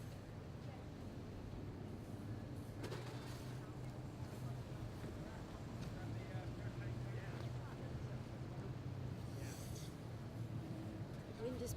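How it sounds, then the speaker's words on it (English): Gusty outdoor wind buffets the microphone as a steady, loud roar throughout, with a few faint voices in the background. "Wind is pesty today."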